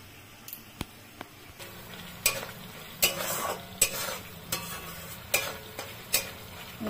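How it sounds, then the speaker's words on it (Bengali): Masala spices frying in oil for restaurant-style butter chicken, a steady low sizzle with repeated scraping stir strokes of a spatula in the pan, close and fairly quiet, no talking. "মশলাটা ভাজা হয়ে এসছে"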